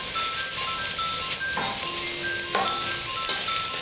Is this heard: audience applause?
no